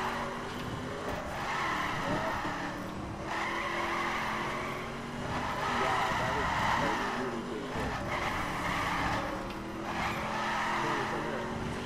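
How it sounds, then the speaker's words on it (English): A car drifts in the racing game The Crew, its engine droning steadily while tires squeal in long, wavering swells that rise and fall through the whole stretch, loud and close, with a voice talking faintly underneath. "Doing epic drifts."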